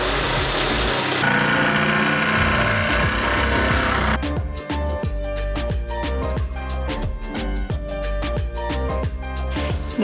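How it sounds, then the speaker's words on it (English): Sawzall reciprocating saw cutting through a bus wall for an RV window opening, starting with a steady buzzing motor, then a loud, close, rapid rattling chatter as the blade bites into the metal, with no speech. "sawzall time."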